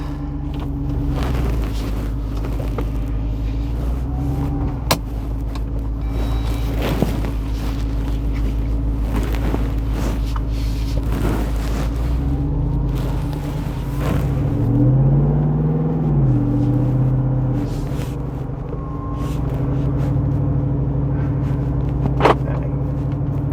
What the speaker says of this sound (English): Gotta love that V8 sound.